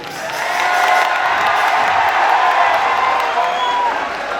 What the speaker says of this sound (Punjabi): ਇੱਕ ਤਾੜੀ ਮਾਰ ਦਿਓ ਜ਼ੋਰ ਦੀ